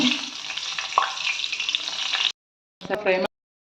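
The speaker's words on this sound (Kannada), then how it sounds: "ಹಸಿಮೆಣಸಿನ್ಕಾಯಿ ಸೀಳಿಸ್ಕೊಂಡು ಒಂದು ಸ್ವಲ್ಪ ಉಪ್ಪು ಹಾಕಿ ರೆಡಿ ಮಾಡ್ಕೊಂಡಿದ್ದೀನಿ. ಅದನ್ನು ಒಂದು ಸ್ವಲ್ಪ ಫ್ರೈ ಮಾಡ್ಕೊಳ್ಳೋಣ." Slit green chillies tossed with a little salt sizzle loudly and steadily in a hot pan for about two seconds, then cut out, followed by a short, sharp burst of frying.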